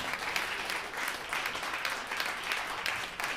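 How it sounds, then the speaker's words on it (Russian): Audience applauding at an opera concert, a dense, continuous wash of many hands clapping with slight rhythmic swells, heard from within the hall at moderate level, without voices. "А вы аплодируйте."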